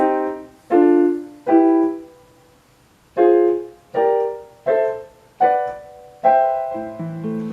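Seven minor piano chords struck one after another with short gaps, each ringing out and fading, the last one sustained longer; no voices.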